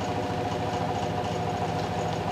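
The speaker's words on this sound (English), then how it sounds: "the system is decelerating back down to its no load speed" A Perepiteia generator motor runs on its own with the coils shut off, decelerating toward no-load speed: a steady, close mechanical hum with a fine rhythmic low pulsing, continuous throughout with no voices.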